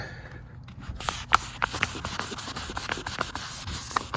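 Wet sanding of car paint by hand with 800 grit sandpaper, done to prevent pinstripe scratches on an offroad vehicle: close, rhythmic rubbing strokes with a gritty, slightly squishy texture, repeating steadily without any voices.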